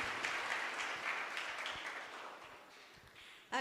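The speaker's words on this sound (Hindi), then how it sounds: "जोरदार ताली बजा देंगे इस गवाही के लिए" Applause from a congregation at a Christian church service after a testimony, a dense wash of clapping that gradually fades, ending with a brief sharp burst.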